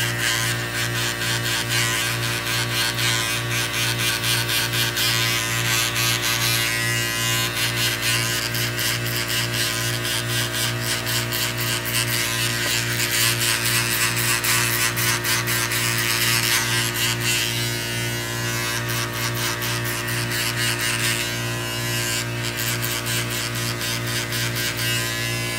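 Electric hair clippers with a number-one guard, fully closed, buzz steadily and close-up throughout while cutting a bald fade with beard, a constant motor hum with no pauses.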